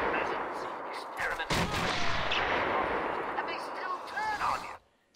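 Sniper gunfire in Batman: Arkham Asylum: a sudden sharp shot followed by a dense barrage of loud, rumbling gunfire that cuts off abruptly, with game voices mixed in.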